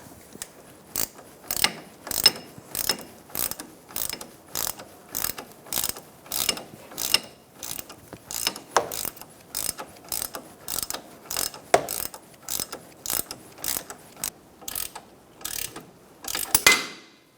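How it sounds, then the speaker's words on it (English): A ratchet snugging a strut bolt on a 2004–2009 Mazda 3: about two dozen crisp clicking bursts in a steady, even back-and-forth rhythm, close and alone, ending with a slightly louder final stroke. "now that it goes through, we're going to snug it up and torque it"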